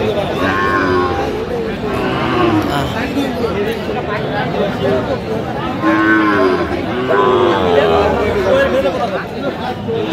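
Sahiwal bull calves mooing at a busy cattle market, repeated drawn-out moos rising over constant crowd chatter and nearby voices.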